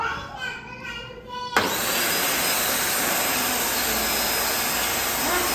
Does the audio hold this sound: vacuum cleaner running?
yes